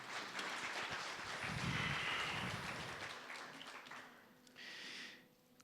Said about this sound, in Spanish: Un aplauso a mi amigo